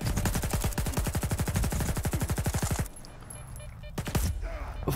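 Rapid automatic gunfire in the video game S.T.A.L.K.E.R. 2, a loud, fast burst of shots lasting nearly three seconds, then a short pause and a few more close shots.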